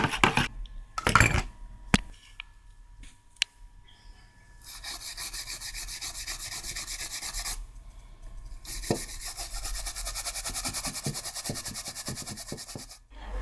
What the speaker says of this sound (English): We have to stir it very well